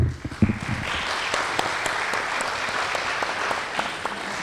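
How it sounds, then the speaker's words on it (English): A crowd at a school parent meeting bursts into sustained applause, many hands clapping steadily for several seconds without fading. "we ought to give her a round of applause, too"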